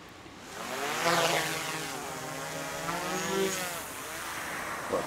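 A DJI Mavic 3 Classic drone lifts off, its propellers whining up into a loud, steady buzzing drone with shifting pitch, close by.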